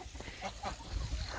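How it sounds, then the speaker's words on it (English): Ducks quacking by their freshly cleaned pond outdoors, a few short calls at mid distance, fairly faint over a low background rumble. "The ducks are so happy. They're like, yes, clean water. We got our pond back."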